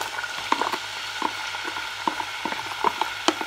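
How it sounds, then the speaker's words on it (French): Vegetables, including onions and peppers, frying in coconut oil in a pan, a steady close sizzle with scattered crackles and pops, no voices. "on met un peu d'huile de coco. On ajoute les petits légumes."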